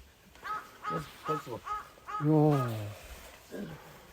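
A crow caws repeatedly in a mountain setting, a series of short harsh calls followed by a longer drawn-out caw and one more call, fairly close and clear.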